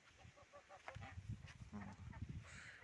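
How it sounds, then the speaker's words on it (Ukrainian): Geese honk and cackle in short bursts close by, with soft background noise and no talking. "Гуси на прополке, да,"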